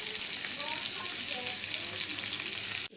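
Onion and tomato frying together in a pan for a bitter gourd peel sabzi give off a steady, dense sizzle that holds evenly before cutting off abruptly near the end.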